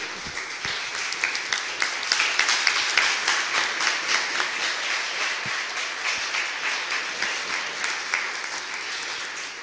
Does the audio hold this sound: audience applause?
yes